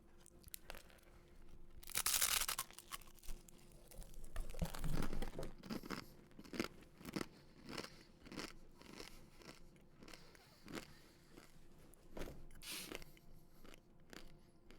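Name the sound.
crunch of biting into crumbly food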